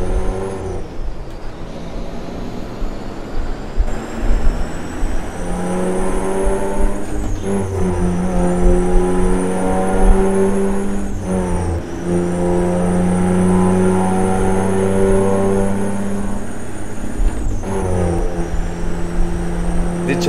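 A heavy diesel truck engine in a Freightliner Classic Flattop, in American Truck Simulator, drones and revs continuously, with pitch rising and falling through gear changes and occasional hissing bursts.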